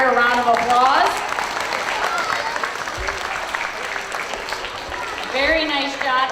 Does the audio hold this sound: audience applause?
yes